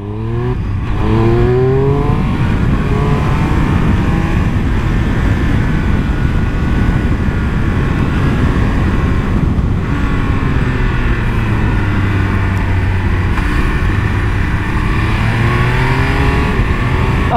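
Triumph Speed Triple 1200 RR motorcycle accelerating hard on the Ascari circuit, a loud continuous engine roar with rising and falling pitch sweeps through the gears, steady and close throughout.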